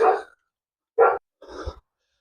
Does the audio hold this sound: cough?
no